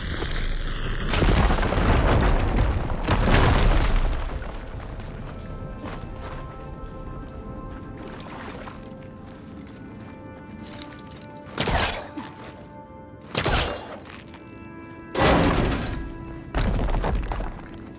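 A fire gleam rock blown up in the Horizon Forbidden West video game: a heavy booming blast with shattering debris, followed by a quieter stretch and several further loud crashing thuds spaced apart.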